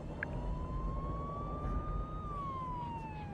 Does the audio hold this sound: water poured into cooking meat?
no